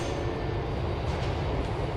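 A train in the horror video game Lost in Vivo rumbles continuously with heavy low-frequency rolling noise, close and steady throughout.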